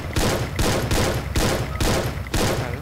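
In the Free Fire game, gunfire sounds as a steady series of loud, evenly spaced shots, about one every half second, close and dominant throughout.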